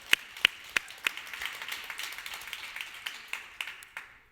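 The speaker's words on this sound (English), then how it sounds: "Let's have a round of applause for our lovely people." Applause from an audience, a dense patter of many hands clapping steadily with a few sharper claps standing out, moderately loud and continuous.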